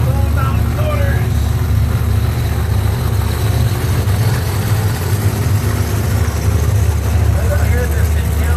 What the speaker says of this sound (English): Gotta love hearing those blown mountain motors.